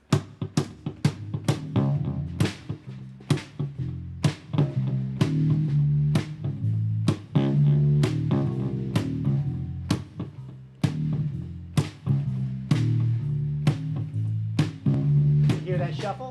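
A song with a shuffle groove plays alone, with steady swung drum hits driving a loping rhythm under warm low chords and bass, loud and clear throughout.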